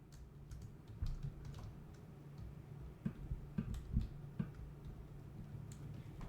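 Typing on a computer keyboard, with quiet, irregular key taps and a few louder clacks close by in an otherwise quiet room, no talking.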